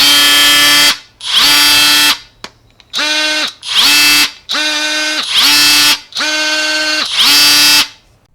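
Ridgid Octane JobMax and DeWalt 20V MAX XR cordless oscillating multi-tools take turns running in short bursts, each starting with a rising whine and holding a steady high buzz for about a second before cutting off, loud and close with no talking.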